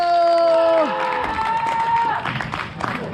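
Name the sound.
audience applause opening a school basketball league draft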